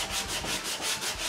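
Sandpaper rubs back and forth over a plastic Endura car bumper under repair, with close, rhythmic scratchy strokes repeating about every fifth of a second.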